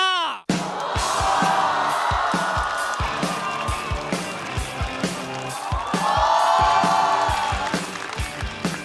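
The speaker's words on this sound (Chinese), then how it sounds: "掌声有请小佳" A stand-up comedy studio audience claps and cheers to welcome a comedian onto the stage, the crowd noise blended under loud, rhythmic entrance music with a steady beat.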